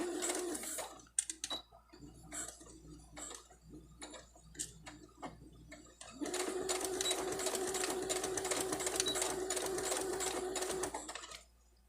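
A sewing machine stitches fabric for a face mask, starting with short, uneven bursts and clicks, then running in one steady, close, whirring stretch of several seconds before stopping.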